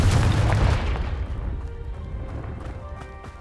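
A Confringo fire spell detonates in Hogwarts Legacy, a loud booming burst with deep rumble that decays over a few seconds.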